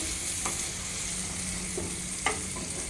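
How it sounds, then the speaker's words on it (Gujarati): A spoon stirs masala with salt and turmeric in a pan for kaju masala curry, scraping a few times over a continuous close sizzle, with no talking. "બધું બરાબર મિક્સ કરી લઈશું"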